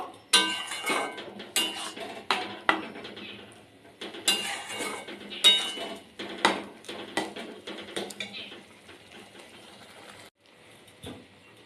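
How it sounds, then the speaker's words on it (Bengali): A metal spoon scrapes and knocks against a cooking pot while chana dal is stirred gently, giving a series of close, irregular clinks and scrapes that thin out toward the end. "এরকমভাবে হালকা হালকা করে নেড়ে নেব।"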